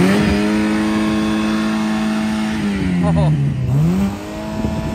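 A stick-shift Pontiac's engine revs hard and loud during a burnout, holding a steady high drone that dips and climbs again. A person calls out briefly over the engine.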